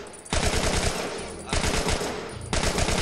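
Rapid automatic gunfire in The Last of Us, loud bursts of shots in three quick strings with brief gaps between them, close and dominant.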